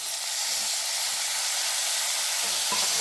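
Chopped onion and tomatoes sautéing in a pan for tomato thokku, a steady close sizzling hiss throughout with faint stirring scrapes near the end.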